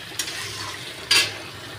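Boiled jackfruit is stir-fried in a pan: a faint, low frying hiss with two short scraping stirs, one small and one louder, with no talking.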